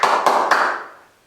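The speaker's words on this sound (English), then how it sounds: "it's the number of times you clap that makes the song" Three sharp, evenly spaced hand claps mark the count of an a cappella counting song at a live music evening, each clap ringing out with a reverberant tail that fades into quiet.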